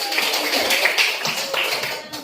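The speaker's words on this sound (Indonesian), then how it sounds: "Oke, tepuk tangan." Classroom children clap their hands together in a mathematics lesson, a brisk burst of many small hands clapping closely in a lively, slightly uneven rhythm for about two seconds.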